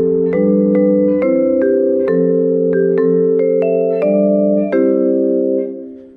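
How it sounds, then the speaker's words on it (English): A vibraphone plays a short jingle of about a dozen mallet-struck notes, each ringing with a soft, sustained metallic tone that blends into the next before the last chord fades away. "Vibraphone."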